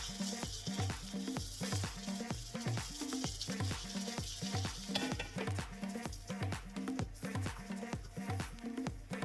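Prawns sizzling and being stirred in a pan, with rhythmic regular scrapes and clinks of a spoon against the pan over a continuous frying hiss, close and moderately quiet with no talking.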